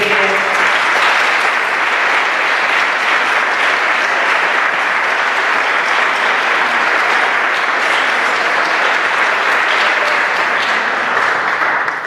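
A crowd at a 2015 political meeting in Benissa applauds loudly and continuously, a dense, even roar of clapping that barely varies for about twelve seconds with no speech over it.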